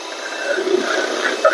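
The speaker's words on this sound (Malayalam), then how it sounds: "വിപ്പിംഗ് ക്രീം ബീറ്റ് ചെയ്തെടുക്കാം" An electric mixer beats whipping cream with vanilla essence for an Arabian bread pudding, making a brief, steady whirring buzz at moderate volume.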